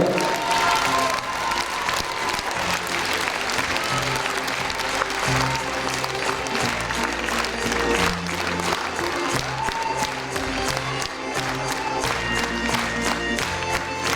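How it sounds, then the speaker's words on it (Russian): A concert audience applauds and cheers at length, loud continuous clapping with shouts and whoops from the crowd, while low music or tones sound faintly underneath. "Друзья, это громогласно, аплодисменты, пожалуйста."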